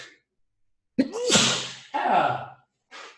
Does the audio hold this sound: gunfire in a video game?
no